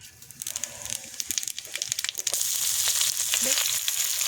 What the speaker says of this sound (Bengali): জিরে সাদা জিরে আর তেজপাতা ফোড়ন দেবো